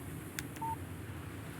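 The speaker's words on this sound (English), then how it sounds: "Text message from Barry." A phone in the game Alan Wake gives a brief text alert, a short clear electronic tone sounding once over a low background hum.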